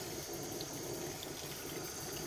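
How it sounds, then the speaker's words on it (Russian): Water runs from a tap in a steady, unbroken hiss while a toy poodle puppy is bathed; the sound is soft and even throughout, with no talking. "так, чтобы вода шла вот такой же струей, как вот здесь из-под крана"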